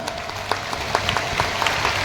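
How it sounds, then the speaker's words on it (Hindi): A crowd at a political rally with the Madhya Pradesh chief minister applauds steadily, a dense wash of many hands clapping at a fairly loud, even level for the whole stretch. "ताली बजाओ तो जोर से बजाओ अपना कार्यक्रम"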